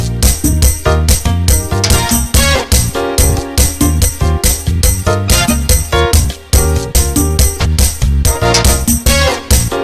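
Korg PA-600 arranger keyboard rhythm pattern altered by a seventh chord, busy drums, bass and chord stabs driving in a steady groove for about ten seconds, loud and up close, no speech.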